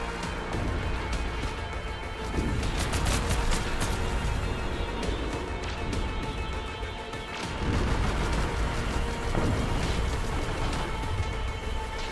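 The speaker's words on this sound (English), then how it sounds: "Something's still shooting at me." Gunfire in the video game Everreach: Project Eden, a dense, continuous barrage of shots and blasts layered over a loud combat soundscape throughout.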